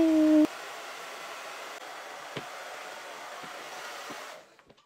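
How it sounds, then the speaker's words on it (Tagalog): A hair dryer blows with a steady broadband whoosh for about four seconds after a brief tonal start, then cuts off and winds down at the end. "Paano ba naman kasi nagbo-blower si Maritus?"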